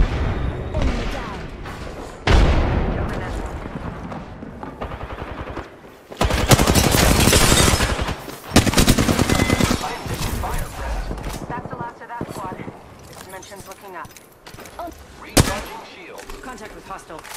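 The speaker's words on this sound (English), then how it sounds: "Open fire on the enemy." Bursts of automatic weapon fire and heavy thuds in an Apex Legends firefight, loud clusters separated by quieter gaps, with game voice lines heard between them.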